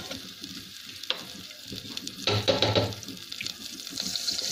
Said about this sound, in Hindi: बटर को मेल्ट होने दें।